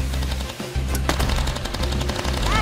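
Rapid machine gun turret fire from the video game King of the Hill, a dense, loud rattling burst sustained across the whole moment with a brief dip partway through, no voices.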